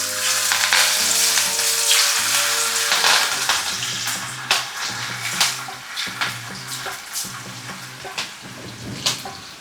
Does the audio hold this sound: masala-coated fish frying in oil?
yes